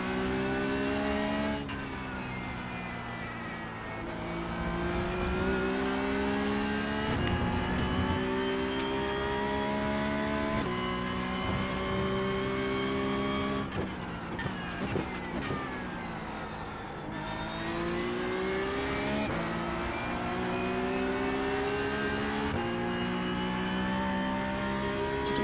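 Race car engines in a sim racing video game during a championship regional final hum and whine steadily, with pitch dropping and climbing again at each gear change across the whole stretch.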